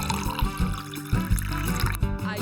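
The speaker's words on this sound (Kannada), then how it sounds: "ಈಗ ನಾವು ಸ್ವಲ್ಪ ನೀರು ಸೇರಿಸುತ್ತೇವೆ." Water is poured into a homemade slime mixture made from fake snow, giving a close, steady splashing trickle with soft low gurgles throughout.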